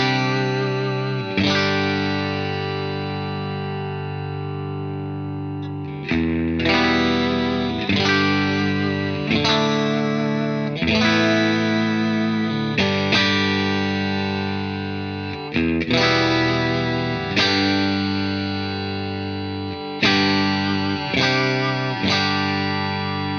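Electric guitar chords played through a Wampler Ego 76 compressor pedal, 1176-style, struck repeatedly in a loose rhythm with each chord sustaining evenly, upfront and steady, with no talk.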